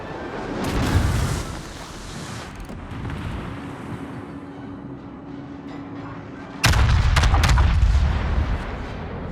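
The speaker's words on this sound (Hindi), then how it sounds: "अब तीसरी गन चली है।" Heavy naval guns of the battleship Alabama firing in a warship video game, deep booming blasts at the start and a louder sustained barrage near the end over continuous engine rumble.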